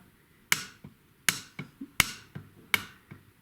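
A hammer taps an axle through a slow-mo unit on a Roundhouse Katie, with soft timber supporting the side: five sharp, close knocks at slow, uneven intervals, with lighter taps in between and no voices.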